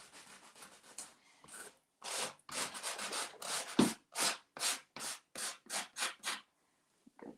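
A sanding sponge rubs across a wooden piece of furniture being distressed, in a steady series of short, gritty back-and-forth strokes, close and fairly quiet.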